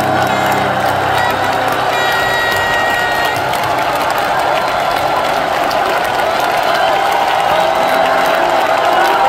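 Loud, sustained audience applause mixed with cheering and whoops at a concert as the band and staff are thanked, a dense wash of clapping and shouts lasting throughout.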